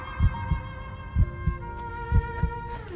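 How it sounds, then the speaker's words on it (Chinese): Human heartbeat heard closely, paired thumping beats in a slow steady rhythm, about three pairs, over a soft sustained musical hum with no talk. "这就是心跳的声音。"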